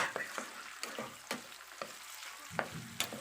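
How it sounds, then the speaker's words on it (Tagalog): Crab sautéing in a hot pan, a soft steady sizzle broken by sharp clacks and scrapes of a utensil stirring against the pan, close and without talk. "Ginisang crab. Ayan, igisa po natin siya."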